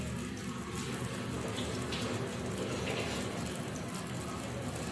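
Steady running tap water splashing over hands at a kitchen sink, a continuous broadband rush at close range with no talking.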